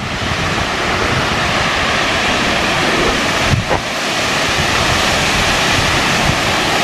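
A very large waterfall in Savoie, in the French Alps, roars as a loud, steady, broadband rush of cascading water from start to finish, with a brief dip midway.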